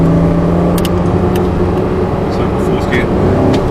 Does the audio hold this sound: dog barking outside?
no